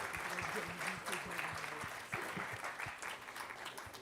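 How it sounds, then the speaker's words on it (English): A room's audience gives a round of applause to the guests of honor at the grand finale of a lawyers' quiz: dense, steady clapping for about four seconds, with a slight lull partway through. "If we can have a round of applause for our guests of honor"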